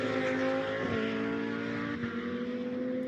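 GT2 race cars climb uphill towards turn 13 at the Algarve circuit during qualifying: a sustained engine drone with shifting pitch and a couple of audible gear changes, heard without commentary.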